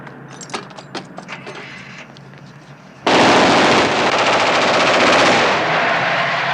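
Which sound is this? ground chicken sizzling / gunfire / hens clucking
gunfire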